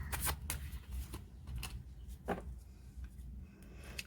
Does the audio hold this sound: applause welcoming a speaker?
no